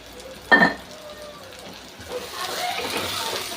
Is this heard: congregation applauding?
no